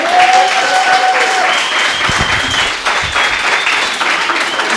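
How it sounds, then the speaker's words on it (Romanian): A studio audience on a comedy show applauds Santa Claus: sustained, loud, dense clapping from many people, with whistle-like tones over it and a few louder individual claps midway. "Aplauze, vă rog, pentru Moș Crăciun."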